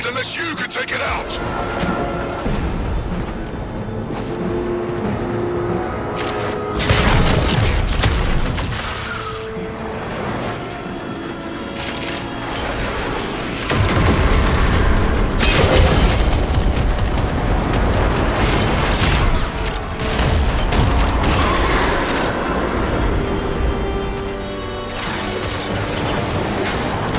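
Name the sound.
enemy cannon firing and explosions in Warframe video game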